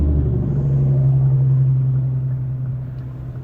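Road traffic from inside a moving car: a steady low engine and tyre rumble that fades slightly toward the end, with no distinct passing vehicles and no talk.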